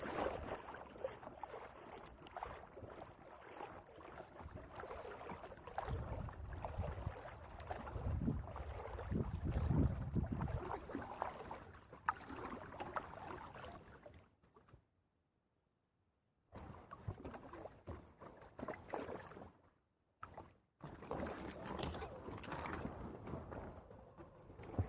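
A packraft paddles on Lamprey Lake, with steady wind-buffeted splashing and stroke noise, a brief quiet gap, then more close paddling and rustle.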